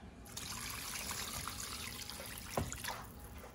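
Water pours and trickles into a pot of shrimp soup, a continuous soft splashing stream that ends in a couple of sharper splashes, with no talk.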